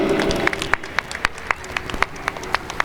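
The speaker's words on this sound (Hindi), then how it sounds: "हम जोरदार तालियों के साथ उनका अभिनंदन करें, स्वागत करें।" An audience at a children's Ramlila festival event applauds, with steady, close clapping and crisp individual hand claps standing out throughout.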